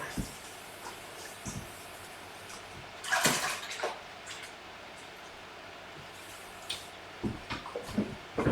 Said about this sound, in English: get my benches all rinsed out